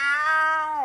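A human voice imitating a Bengal tiger with a single drawn-out, meow-like yowl, loud and close, held steady for under a second.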